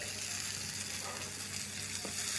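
Fish sizzles and crackles steadily in a hot pan, a soft continuous frying hiss heard close up without talking.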